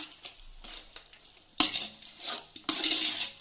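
Marinated chicken for biryani sautés in a pan, a quiet sizzle that swells into louder bursts as it is stirred, with a few utensil knocks against the pan and no speech.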